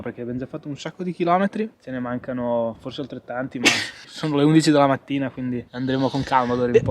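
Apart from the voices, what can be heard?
None of the usual background noises is heard.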